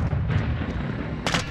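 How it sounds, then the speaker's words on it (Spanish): Call of Duty Modern Warfare 2 team deathmatch on the Farm map: a stun grenade goes off as a brief bright crack amid a steady low rumble of combat, close and loud. "granada aturdidora."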